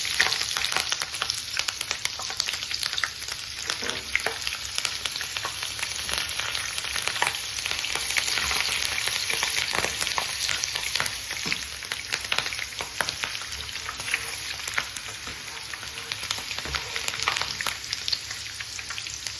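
Green chillies drop into hot oil in a pan with the stove just switched off, giving a steady, dense crackling sizzle close by that holds evenly throughout with no talk.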